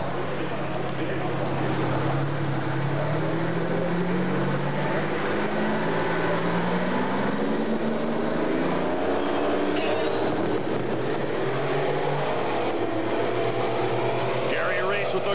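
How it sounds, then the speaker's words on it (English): A Peterbilt truck with twin V12 Detroit Diesel engines roars through a pull at a big rig pulling event, a loud sustained drone with rising and shifting engine tones and a whine building later, a commentator talking over it. "Let's see if the V12 Detroit Diesels can get all kinds of heat in, build some horsepower, and take this Peterbilt down past 302 and 5."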